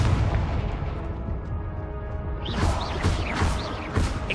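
A fiery Confringo spell blast in the Hogwarts Legacy game, a loud booming explosion that rumbles on, followed by a scatter of sharp crackling bursts and pops.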